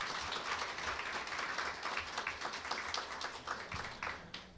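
Moderate applause from officials at a Korean district office award ceremony during a photo session, many hands clapping in a continuous, slightly distant patter that trails off at the end.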